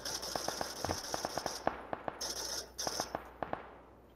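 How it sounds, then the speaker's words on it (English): Burst-fire gunshots in PUBG, a rapid run of sharp evenly spaced cracks in short groups, fairly close, with no talking. "I shot that guy with two burst fires in the back of the head"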